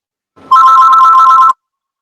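A telephone rings once during a conservation commission meeting in Granby, Massachusetts: a single clear electronic tone lasting about a second, loud and close, with no talk over it.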